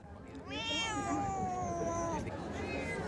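A cat at a large annual cat show and competition gives one long, drawn-out meow with a wavering pitch, fairly close and clear over a low hum of crowd noise.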